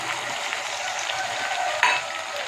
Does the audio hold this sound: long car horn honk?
no